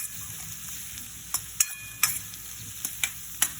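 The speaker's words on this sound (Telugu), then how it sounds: "నూనెలోని ఉల్లిపాయ గోల్డెన్ ఫ్రైగా" Onions frying golden in hot oil for a spicy Chettinad-style pepper chicken, a steady close sizzle with a handful of sharp crackles and spatter pops spread through it, no voices.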